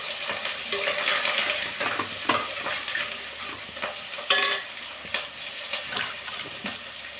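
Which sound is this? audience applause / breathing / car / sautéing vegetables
sautéing vegetables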